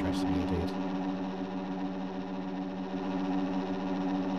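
Supercross motorcycles at the start gate of a 2025 NSP SMX round in Brazil, engines holding a steady, loud, buzzing drone with a few brief revving bursts at the start, continuous throughout.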